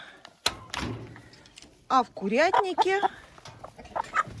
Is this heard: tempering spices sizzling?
no